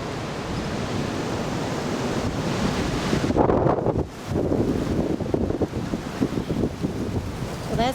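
Strong Alaska wind buffets a portable pop-up greenhouse, a loud continuous roar with gusty surges and microphone rumble throughout.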